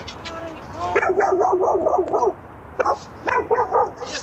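Several dogs bark in repeated bursts at a delivery driver, a loud cluster of barks followed by shorter yips and a pause, with people talking over them.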